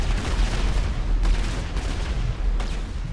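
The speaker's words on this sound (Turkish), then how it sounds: "Bak gönderin bombaları." Huge bomb blasts from a big-bomb mod in GTA 5 rumble in a dense, continuous roar, with sharper bursts rising near the middle and end and no one speaking.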